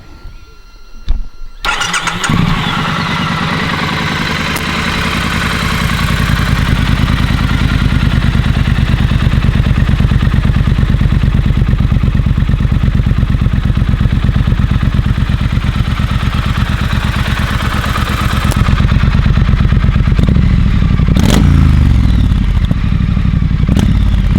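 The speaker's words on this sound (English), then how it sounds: "put it right by the exhaust this time, and we'll get a much better idea of how it sounds" A Triumph Scrambler 900 with its standard exhaust starts up and idles loudly close to the exhaust, a steady throbbing rumble with a few revs toward the end.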